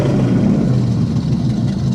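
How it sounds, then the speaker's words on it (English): A 1932 Ford hot rod engine runs loud and close, a deep, throaty rumble that swells briefly as it revs and holds a strong low drone throughout, with no talking. "Hey Reg, rev the engine."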